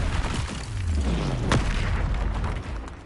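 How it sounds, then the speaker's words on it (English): A spell cast in the Hogwarts video game lands as one loud boom at mid-clip, with a sweeping whoosh before it and a rumbling tail after. "Expelliarmus!"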